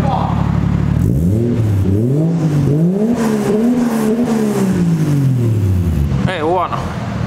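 A car engine with a newly fitted exhaust, just lowered from a lift, revs repeatedly in rising and falling sweeps, loud and close, the revving heard through and under talk.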